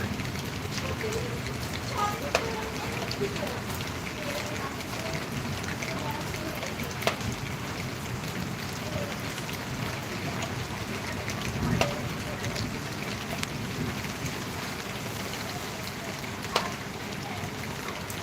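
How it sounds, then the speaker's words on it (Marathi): Monsoon rain falls steadily in Mumbai as an even, fairly faint hiss, with a few small sharp sounds rising above it. "आमचा मुंबईचा पाऊस आहे"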